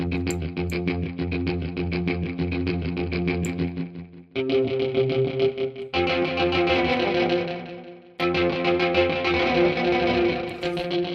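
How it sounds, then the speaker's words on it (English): Rhythm guitar from a KORG SantaAna rhythm guitar generator, played through a reverb effect: a loud, steady strummed pattern that runs continuously, with brief dips in level around two chord changes. "reverb"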